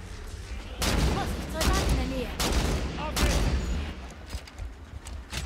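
Bursts of rapid gunfire from a weapon in Halo 5: Guardians, several loud volleys with brief pauses between, over a low background rumble.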